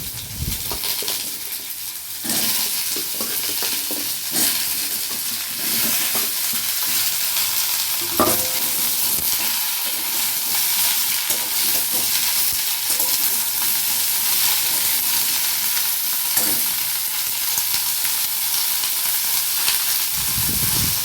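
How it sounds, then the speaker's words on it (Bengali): Chopped ridge gourd hits a hot spice tempering in a pan for Bengali jhinge shukto, producing a loud, steady sizzle with occasional spoon scrapes and stirring knocks throughout. "ফোড়নের উপরে আমি কেটে রাখা ঝিঙেগুলোকে আমি দিয়ে দিচ্ছি"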